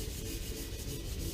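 Wood is sanded by hand with 400 grit sandpaper, a steady close scratchy rubbing of even strokes with no pause, alone and fairly quiet.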